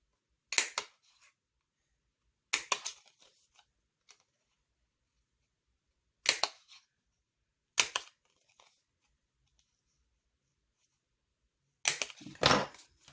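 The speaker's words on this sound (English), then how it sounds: "we're just going to put some holes in it" Holes punched in material for a DIY event favor purse: five sharp, isolated clicks spaced a few seconds apart, close and quiet otherwise, with no speech.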